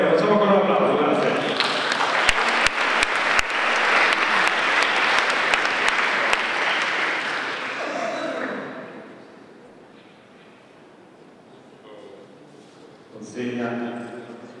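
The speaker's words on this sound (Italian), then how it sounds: "Facciamo con un applauso, grazie." Loud, dense audience applause at an Italian sports honours ceremony for a relay team, with a few sharper claps standing out. The applause fades after about eight seconds, leaving a quiet room, then a voice speaks at the end.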